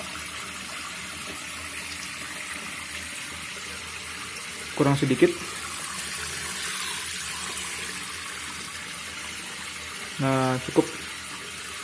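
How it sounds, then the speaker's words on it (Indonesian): Tap water runs steadily from a faucet into a container being filled to 200 ml, a continuous splashing hiss at moderate distance, with two short spoken remarks interrupting it partway through. "isi air hingga 200 ml."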